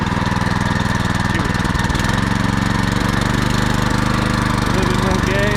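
A garden tiller engine runs steadily in a strawberry row, a loud, constant droning hum with slight revving as throttle is added, while someone speaks briefly over it.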